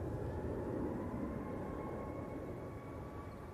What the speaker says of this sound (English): Ryanair 737 Max. Now rolling.